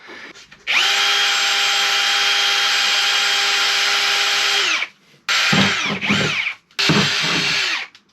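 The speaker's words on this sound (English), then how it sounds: "So I'm going to drill a few holes" A power drill bores holes during a 6x6 expedition truck build, its loud steady whine running for about four seconds before two shorter bursts, with no talking.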